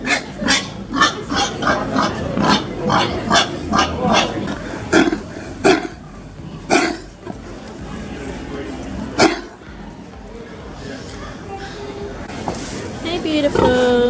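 Pigs grunting and oinking inside a livestock pavilion at an agricultural show, a run of short snorting grunts in quick bursts early on, then sparser calls, with a crowd murmuring in the background.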